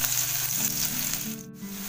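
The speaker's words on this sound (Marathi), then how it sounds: "त्यात सगळ्यात आधी टाकते कढीपत्ता आणि कांदा फोडणीसाठी" Curry leaves and onion hit hot oil in a kadai, giving a continuous crackling sizzle with a faint hum beneath, briefly dipping near the end as the pan is stirred.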